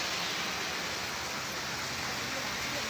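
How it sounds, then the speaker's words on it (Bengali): Heavy rain pours down in a city in Saudi Arabia, a dense, even roar of water spread broadly, loud and unbroken throughout with no clear speech over it. "ভরপুর বৃষ্টি হইতেছে সৌদিতে"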